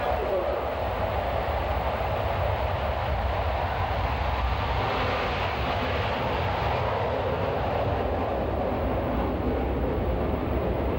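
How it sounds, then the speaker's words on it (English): Blue Angels jets fly past in afterburner at an air show, making a broad, steady roar that swells slightly, with a narrator speaking over it. "As they pass before us, you will notice the smoke is not visible while the aircraft are in afterburner."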